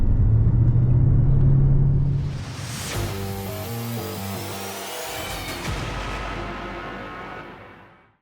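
A 2000 Mercedes-Benz E55 AMG W210 with a V8 engine gives a loud, deep, steady rumble that shifts in tone midway and then fades away to quiet at the end.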